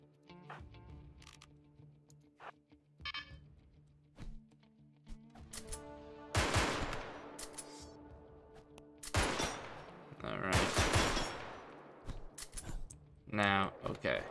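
Gunfire in the colony-building video game RimWorld: scattered sharp shots and short volleys crack at irregular intervals, moderately loud, with someone talking between and over them.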